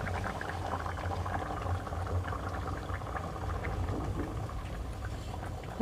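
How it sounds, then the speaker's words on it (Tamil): Tamil lake kendai fish curry simmering in a pot with coriander and curry leaves added, a steady low bubbling boil with soft popping, close and continuous, no voices. "குழம்பு பாருங்கள் நல்லா தலை தலைன்னு கொதிச்சிருச்சு"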